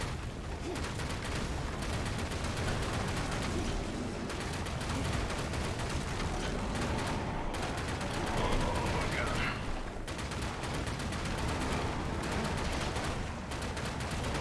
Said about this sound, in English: Slag cannon.